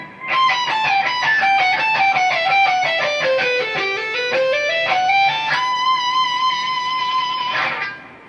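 Electric guitar solo section, a long legato run of fast notes descending then climbing, ending on a held high bend that rings before cutting off; loud, continuous and unaccompanied by speech.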